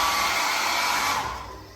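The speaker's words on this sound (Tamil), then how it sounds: "Hair dryer." A hair dryer runs close by in a hotel bathroom, a steady, loud blowing whoosh that holds for most of the moment, then drops off and ends with a short click.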